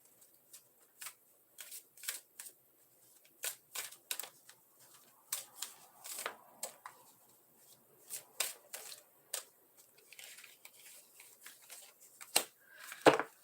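Tarot cards are shuffled by hand up close: quiet, crisp bursts of riffling and slapping in irregular clusters, with short pauses between them.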